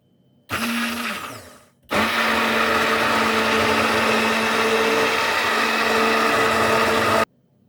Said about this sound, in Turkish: Son kez daha karıştıralım dondurmamızı.